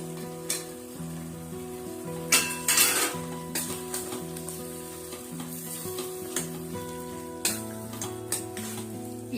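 Potatoes and carrots tumble into a hot frying pan of oil while making soya chunks vegetable pulao, with steady sizzling and frying, scattered clinks of a utensil against the pan, and bursts of louder crackle as the vegetables go in; no talking.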